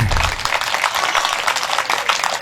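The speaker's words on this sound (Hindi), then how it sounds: "बजाओ अपने शहर के लिए ताली।" Dense crowd clapping at a Hindi poetry gathering (kavi sammelan) in Sandalpur, Dewas district; steady, lively applause filling the whole moment, fairly close.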